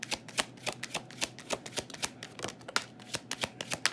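Tarot cards are shuffled for a reading, a quick crisp run of riffling flicks and soft slaps repeating closely and fairly quietly without any talk.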